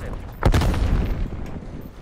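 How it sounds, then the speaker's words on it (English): Booming blasts from a video game war machine, one heavy burst landing about half a second in and then a dense rumbling tail of further detonations, with voices faintly present. "That's a lot of explosions."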